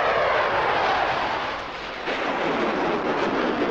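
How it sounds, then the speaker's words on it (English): An airplane passes overhead in a low-budget Terminator remake, a broad roaring rumble that dips briefly and swells again, loud and sustained. "Why did an airplane just go overhead?"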